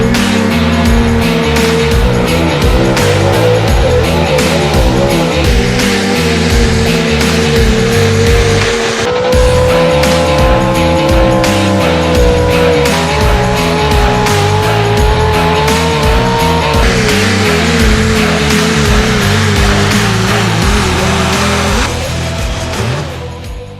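Small block high output trucks roar at a truck and tractor pull, a loud, sustained engine howl with rising and falling pitch as the revs climb, heavy and close for the whole stretch with no talking.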